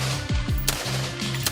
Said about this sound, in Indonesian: petugas terpaksa melepaskan tembakan hingga seorang yang dicurigai akan melakukan kejahatan terkapar